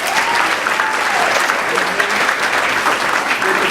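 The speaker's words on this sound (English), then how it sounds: "Mike and Stan, give them a round of applause." Loud, continuous applause from a premiere audience honouring two men in the room, dense clapping with faint voices and cheers underneath.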